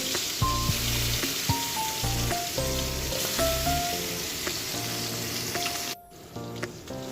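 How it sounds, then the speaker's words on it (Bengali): Koi fish fry a couple at a time in hot oil, a constant hissing sizzle running beneath louder music throughout, briefly dropping away near the end. "এদিকে আমার তেল গরম হয়ে গেছে আমি কই মাছগুলো দু একটা করে তেলের মধ্যে ভালো করে লাল লাল করে ভেজে নেব"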